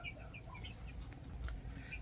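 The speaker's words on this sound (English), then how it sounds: "I'll just come in, check on the chickens, see if they need a water refresher" Chickens in a coop during a heatwave give soft, scattered clucks and short calls, moderately near, over a low steady background hum.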